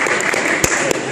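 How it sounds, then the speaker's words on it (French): An audience at a hackathon final presentation forum claps together, a dense and fairly loud patter of applause with a couple of sharper accents, while speech may sit faintly underneath. "Merci d'applaudir."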